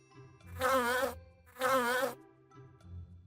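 A fly buzzes in two loud, wavering bursts with a short pause between them, each lasting about half a second, followed by quieter background sound.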